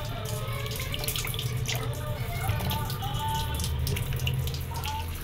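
Cut hilsa fish being washed under a running kitchen tap, a steady, close rush of flowing water with soft splashing that continues evenly throughout.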